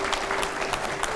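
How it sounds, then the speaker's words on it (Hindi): A studio audience claps in a brief, dense burst at a televised political discussion, steady and fairly loud with no talk on top. "जोरदार तालियां हो।"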